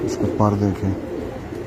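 Racing pigeons, three birds flying for three years, coo in a low, throaty burst near the start while someone talks over them close by.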